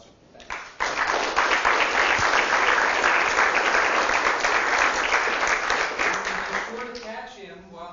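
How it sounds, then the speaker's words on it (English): A seminar audience applauds a guest speaker after a scientific talk on Saturn's rings, a loud, dense burst of clapping that fills the room for several seconds before tapering off, with a voice coming in at the end. "So what I would suggest is that we give Jim a great round of applause"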